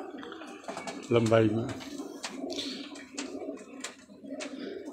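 Pet pigeons, Kamangar and golden teddy birds, coo softly in a low rolling burble, several short phrases close by, with someone talking over them.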